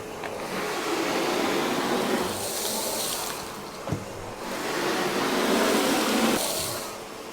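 A Dewalt StealthSonic shop vac sucks sawdust off a workshop floor, a steady close whooshing roar that dips briefly midway with a small clatter of debris, then swells again before easing off.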